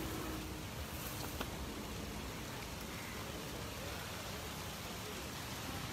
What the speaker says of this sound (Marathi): इकडं जोरदार पाऊस पडतोय